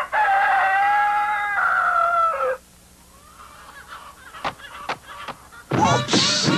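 Cartoonish poultry calls: a long honking, crowing cry, then a few sharp clucks and a loud flapping burst at the end.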